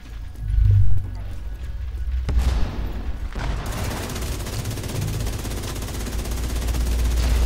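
Gunfire in the video game The Division, rapid continuous shooting bursts under someone talking throughout, with a louder thump near the start.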